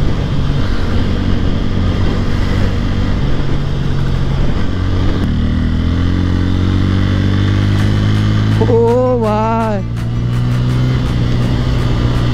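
A Yamaha MT-15 motorcycle races on the road, its engine droning loud and steady, then rising through several quick revving surges near the end as the rider opens it up to full power.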